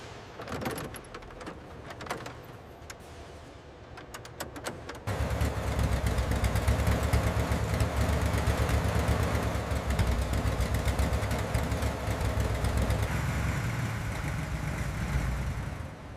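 A restored vintage fuel tanker truck engine rumbles on a test drive: quiet clicks and knocks give way, about five seconds in, to a loud, steady, close engine drone that holds to the end.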